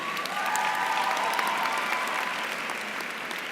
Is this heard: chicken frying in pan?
no